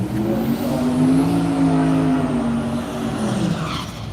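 Loud race car engine droning at a drag racing event, held for several seconds with a steady harmonic whine that shifts slightly in pitch as the run continues, no talk over it.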